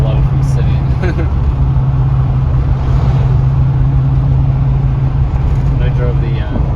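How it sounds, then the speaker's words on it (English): Engine of a 2015-2020 GMC Yukon or Chevy Tahoe with a newly replaced alternator on a test drive, a loud steady low drone heard from inside the cabin, with people talking over it. "so we decided to take it for a little test drive"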